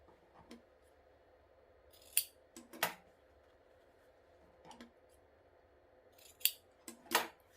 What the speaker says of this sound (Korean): 이 시접을 이렇게 잘라낼 수도 있습니다